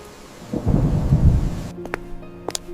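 A deep rolling thunderclap from a thunderstorm with rain swells loudly, then fades, leaving a few sharp crackles and a quieter steady background.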